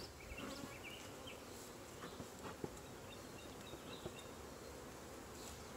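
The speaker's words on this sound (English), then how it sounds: "And these bees, Bob, are moving like nuts." Honey bees buzzing around an opened hive frame during an inspection, a dense, even hum filling the whole stretch at low level, with faint scattered clicks.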